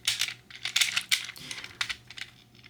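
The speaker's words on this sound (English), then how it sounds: "there's a lot of clicking going around here. Whenever you slide the sliders, or you turn the sort of barrel piece" A mechanical puzzle with sliders and a turning barrel piece is scrambled by hand, making rapid, close, irregular plastic clicks and clacks in quick bursts.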